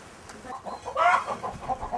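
Chickens in a rural Ugandan henhouse cluck softly in short, scattered bursts, with one louder squawk near the middle, close by and without talk.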